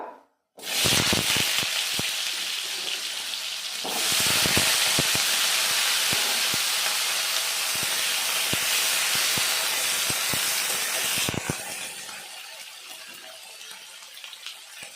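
Chopped raw papaya dropped into hot mustard oil sizzles loudly and steadily, a broad hiss that swells after a few seconds and keeps up with small crackles before easing near the end; no one speaks.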